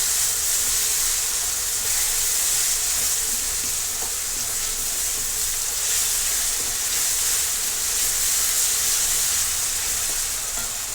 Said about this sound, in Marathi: ती देखील आपण तेलामध्ये व्यवस्थित परतून घेणार आहे